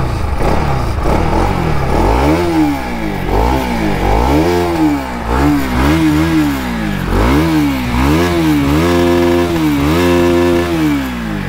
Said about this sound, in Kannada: ಇಂಜಿನ್ ಯಾವ ಥರ ರೋರ್ ಮಾಡುತ್ತೆ ನೋಡೋಣ